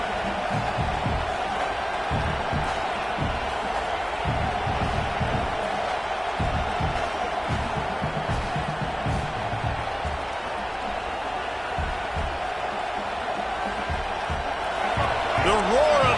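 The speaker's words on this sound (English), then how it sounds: "The roar of the crowd trying to fuel this defense to keep them pinned in their own end" A stadium crowd in the Madden football video game roars steadily and loudly throughout, a dense continuous wall of cheering with faint thuds underneath and commentary voices mixed in.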